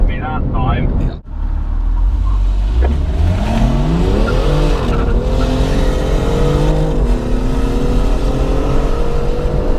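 A BMW M240i or M2 accelerates hard, the engine note climbing steadily through the revs, close and loud, with a sharp shift break early on.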